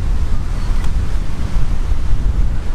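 Steady ocean surf and strong wind buffet a tropical beach at Port Douglas, with a constant roar of waves and gusty rumbling close to the microphone, no voices.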